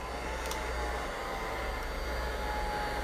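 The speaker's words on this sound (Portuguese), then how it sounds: "Ah, você vai usar o soprador." A heat gun blower runs to dry the base coat on a decoupage piece, giving a steady, continuous airy whir that holds at an even level throughout with no talking.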